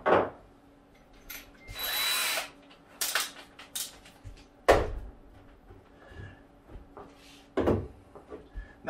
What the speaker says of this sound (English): you're going to take your quarter inch drill bit.